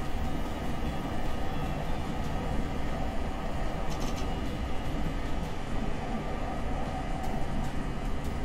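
A train passes in the video game Train Sim 2021 with a loud, continuous rumbling roar and steady rolling noise that holds for several seconds.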